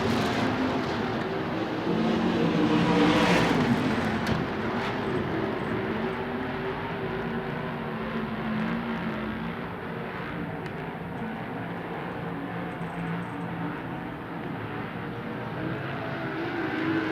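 USAC/CRA sprint cars race at Phoenix in a steady, loud engine roar. Several cars pass in a continuous droning blur, with a louder swell early on, then a sustained racing din.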